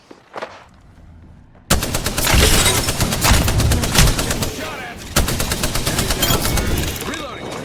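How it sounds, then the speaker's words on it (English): Automatic weapon fire in Apex Legends rattles out in long rapid bursts after a brief quiet opening, loud and close, one sustained stream of shots, a short gap, then another dense volley, with game voice callouts mixed in. "Getting shot at."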